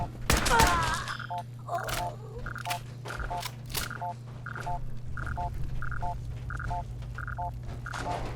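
Gunfire in the video game Fallout 4 starts with a dense burst of shots, then settles into a regular run of sharp electronic pulses over a low hum. Game voices talk in the background.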